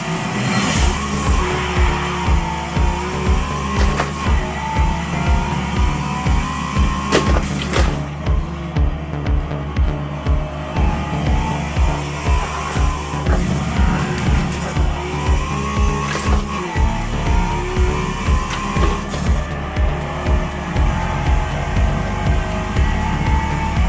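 Race car in Forza Motorsport 7 simulation mode, a loud engine revving in rapid rhythmic bursts through gear changes, with repeated tire squeal and skidding through corners.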